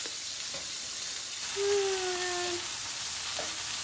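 Steady loud sizzling of fish frying in hot oil in a pan, close up, with a faint tonal squeak partway through.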